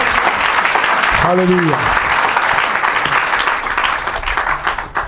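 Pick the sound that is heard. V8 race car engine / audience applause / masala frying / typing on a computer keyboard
audience applause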